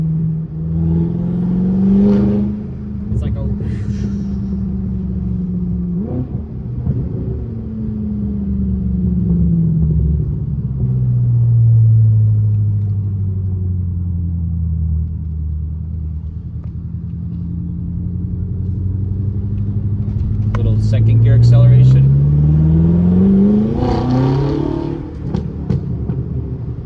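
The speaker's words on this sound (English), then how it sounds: "I get both induction and exhaust note, and I like it." A BMW F10 M5 with a Turner muffler delete revving, its deep exhaust and induction note rising and falling in long sweeps, swelling loud twice and easing back in between, close and unaccompanied.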